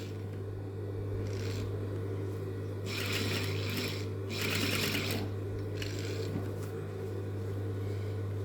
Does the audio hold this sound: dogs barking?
no